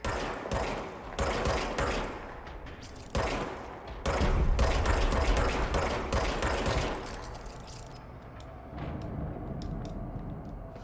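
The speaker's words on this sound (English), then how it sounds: "Now I have a gun." Rapid automatic gunfire from the video game Control comes in dense, loud bursts that repeat with short gaps and fade into quieter scattered shots near the end.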